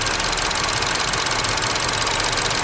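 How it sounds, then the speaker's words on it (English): A 2012 Chevy Cruze Eco's EcoTec engine idles close by with a constant, even rumble and hiss, unchanging throughout and with no voices. "Hear how quiet that motor is?"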